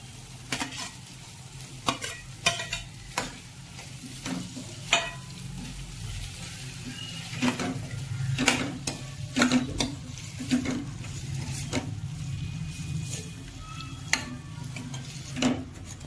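Spices and boiled potatoes being stirred in a pan for a Gujarati potato curry, giving repeated scraping and clinking strokes over a steady low frying sizzle, with no talk.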